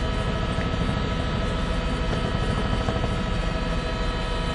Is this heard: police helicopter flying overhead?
yes